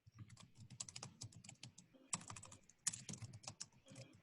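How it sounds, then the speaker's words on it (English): Rapid, irregular keystrokes on a computer keyboard, close and fairly quiet, with short bursts of clicks and brief pauses, no voices. "I'm typing out what you're saying."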